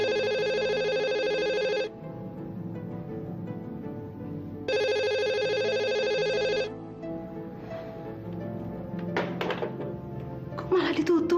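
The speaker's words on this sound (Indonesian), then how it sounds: "Saya telepon Adrian sekarang ya, Ma." An outgoing phone call rings unanswered, giving two long electronic ringback tones with a pause between them. Soft room noise runs underneath, and near the end come a few thuds and clicks that sound like a door or the handset.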